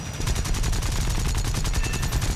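American .50 caliber machine guns firing in the War Thunder tank game, a rapid, steady stream of heavy, evenly spaced shots, loud and continuous throughout.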